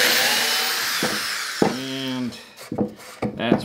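Power drill driving drywall screws into wood while building a woodworking shooting board: a short whirring burst of the drill, surrounded by scattered knocks and handling clatter nearby.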